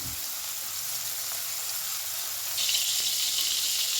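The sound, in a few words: garlic, dried chilli and onion frying in prawn oil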